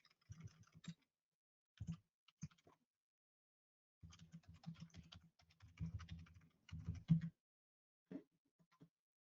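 Bursts of typing on a computer keyboard while an SMB network address is entered: quick close clicks in short clusters, with pauses in between and a longer run of keystrokes near the middle.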